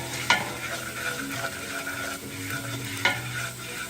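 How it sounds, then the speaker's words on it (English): Garlic browns in olive oil in a pan, giving a soft, steady sizzle with a couple of sharp clinks of a utensil against the pan. "browning up my garlic a little bit there"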